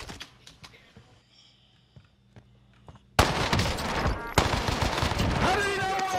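Gunfire in the Warzone video game: quiet clicks and taps first, then a sudden loud, dense burst of rapid automatic shots that keeps going to the end.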